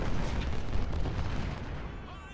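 Continuous rumbling artillery barrage from a Civil War battle in Ultimate General: Civil War, dense booms blending into a steady roar, with a voice talking faintly underneath.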